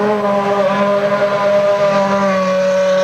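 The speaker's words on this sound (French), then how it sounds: "Attention, il y a la McLaren de Mika Hakkinen." Formula 1 race cars at the 1996 Monaco Grand Prix give a steady, loud, high-pitched engine drone that holds for three seconds without a break.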